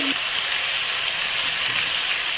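Chicken pieces frying in oil in a karahi, cooked restaurant style, giving a steady, continuous close sizzle with a dense hiss that stays even throughout with no talk over it.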